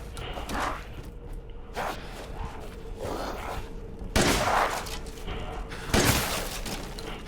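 Several loud gunshots in Resident Evil Village ring out at irregular intervals, with bursts of crashing impact amid continuous background game noise.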